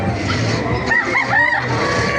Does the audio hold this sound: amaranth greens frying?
no